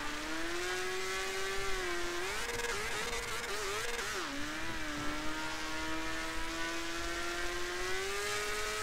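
Car engine in a video game held at full throttle, a steady loud drone whose pitch dips and wavers midway before settling and rising again, with no talk over it.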